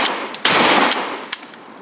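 A lead birdshot shell fired from a lever-action shotgun produces a single loud, sharp blast with a short ringing tail, followed by a fainter metallic click.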